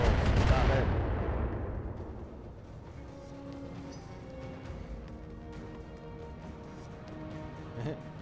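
Missile salvo firing in BattleTech, a loud burst at the start that fades into lingering rumble and scattered impacts under game sounds.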